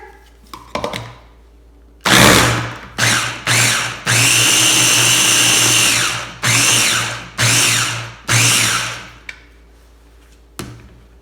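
A Ninja blender whirs loudly while blending blue cheese dressing in a series of pulses: a few short bursts, then one long roaring run, then more short bursts, with no voices.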